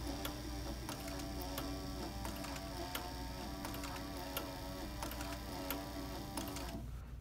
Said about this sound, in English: Heavy-duty stitcher, no problem, right?